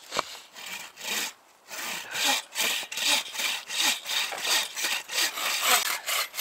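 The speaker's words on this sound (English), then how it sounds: "We're gonna cut this wood." A 24-inch hand saw cuts through wood at a winter camp, giving repeated rasping back-and-forth strokes at a steady rhythm, close and loud, with a brief pause near the start and no talk.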